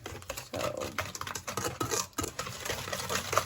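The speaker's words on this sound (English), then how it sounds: "you'll want to whisk that very well until the sugar dissolves" Whisk beating a sugar mixture in a bowl for Turkish revani semolina cake, quick irregular clicking and scraping strokes close up, fairly quiet with uneven bursts and no talk.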